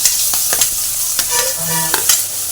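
Fenugreek seeds sizzling loudly in hot oil for a bitter gourd kuzhambu: a close, dense sizzle with a few spoon scrapes, and no voices.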